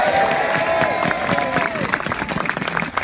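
A harbour crowd in Gosport welcomes a returning sailor home with loud applause and cheering, a dense wash of clapping with a whistle heard at the start.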